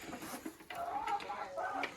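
Silkie and mixed-breed hens in a greenhouse give two short bursts of close clucking, with a faint voice in the background.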